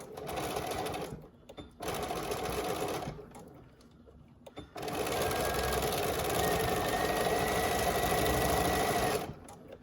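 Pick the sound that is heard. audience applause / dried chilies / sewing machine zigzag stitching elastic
sewing machine zigzag stitching elastic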